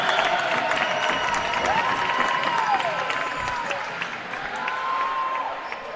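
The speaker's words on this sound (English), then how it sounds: "The Jumper faithful in the crowd making some noise" Fans of the Jumpers cheer and make noise in the crowd at a men's college basketball regional playoff game, a steady roar of voices and clapping throughout.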